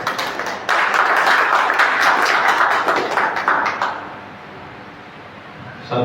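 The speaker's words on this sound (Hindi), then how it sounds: "आप लोग जोरदार तालियों से इस्तकबाल कीजिए" Loud, dense applause from an audience at a gathering, bursting in strongly after a brief start and then tapering off into quieter scattered clapping.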